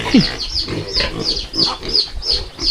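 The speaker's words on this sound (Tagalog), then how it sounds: "Pakain na tayong baboy" Pigs being fed on a farm give repeated grunts and squeals in a loud, busy cluster, with one sharp squeal near the start and overlapping calls continuing throughout.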